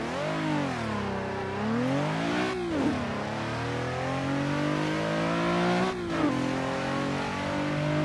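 A Nissan 370Z revs hard in Assetto Corsa, its engine note sweeping up and down in repeated strong pulls with a rich, buzzy harmonic tone. Loud and close throughout, with no talking.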